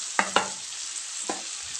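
Onion browning in a pan for onion tomato chutney, a soft steady sizzle with two quick scrapes of a spoon early on and another single stir a second later.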